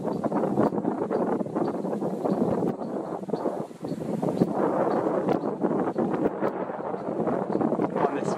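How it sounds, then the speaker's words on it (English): Gusty wind buffets the microphone in heavy, rumbling waves beside an observation tower in the Okefenokee swamp preserve, with a faint voice somewhere underneath. "Very, very windy day."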